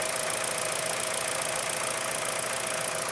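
Steady running engine of a 2013 Kia Rio, a constant close hum with a faint ticking texture throughout; no clear crank or start transient, just the idle holding steady.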